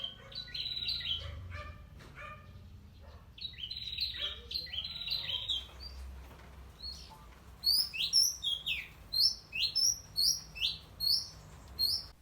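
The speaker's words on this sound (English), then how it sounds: "Birds often come to our garden or balcony depending on where we are staying." Birds visiting a garden chirp and tweet, first in scattered bright calls, then in a quick run of sharp, rhythmic chirps close by toward the end, over a quiet background.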